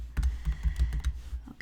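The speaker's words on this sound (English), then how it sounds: "Okay, typing." Computer keyboard typing during a Java web coding session: a quick, irregular run of close key clicks and taps, with no talking over it.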